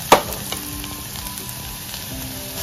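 Onion fries in a pan for Goan potato bhaji, a steady close sizzle with a sharp clink at the start and faint stirring scrapes.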